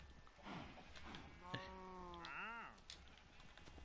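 Cattle mooing in a farm video game, one long drawn-out moo with rising and falling pitch in the middle of the clip, over a low background ambience.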